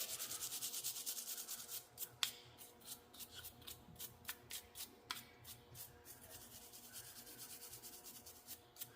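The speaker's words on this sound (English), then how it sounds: "So we're just going to take our brush, nylon brush." A nylon brush scrubs dirt from a planter seed tube sensor lens with short, quiet bristly strokes in an uneven rhythm, a few sharper ticks mixed in, close and faint with no talking.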